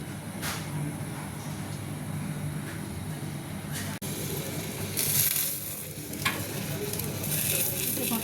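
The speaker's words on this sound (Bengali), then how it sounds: "ভাজা ভাজা হচ্ছে" Food frying in a pan on a home kitchen stove, a steady close sizzle with a few brief scraping or stirring sounds and a faint low background hum.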